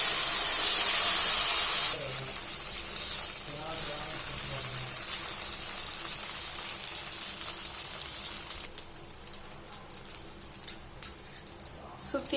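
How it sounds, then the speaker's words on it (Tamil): Adai batter poured onto a hot, oiled dosa pan sizzles with a steady bright hiss that loudens at first, then settles into a softer crackle, while someone speaks Tamil over it. "தோசைக்கல் ஹீட் ஆனதுக்கு அப்புறம் அடையை நம்ம ஊத்திடலாம்."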